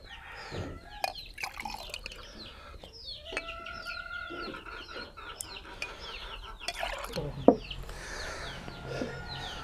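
Many chickens on a poultry farm cluck and chirp continuously close by, overlapping busily, with one sharper squawk standing out near the end.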